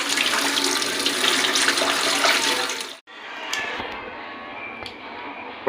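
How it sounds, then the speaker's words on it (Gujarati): Leafy greens rinsed under a running tap, a steady loud gush of water that cuts off abruptly midway, then resumes more softly with light splashing and clinks until the end. "આવી રીતે બધી ભાજી મસ્તથી ધોઈ નાખવાની."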